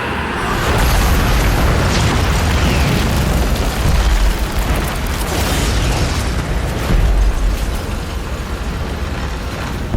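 A staged explosion effect for a fantasy audio drama, a rumbling blast with crackling debris and low booms that fill the whole stretch loudly and continuously, swelling again near the middle and late.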